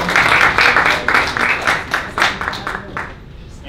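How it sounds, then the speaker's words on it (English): An audience at a Startup Grind event in Bratislava breaks into sustained clapping, a dense wash of applause that swells for a few seconds and then slowly thins and fades. "round of applause,"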